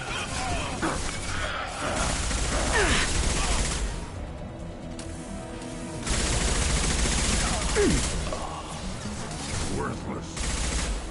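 Rapid bursts of gunfire from a Mass Effect 2 battle, loud and close, crackling in volleys amid game effects and brief combat shouts.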